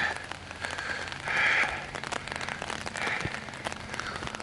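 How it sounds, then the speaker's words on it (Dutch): Steady drizzle falls during a Sunday afternoon walk in the woods, a constant soft hiss of rain that swells briefly louder, with no talking. "En het gaat alleen maar harder regenen."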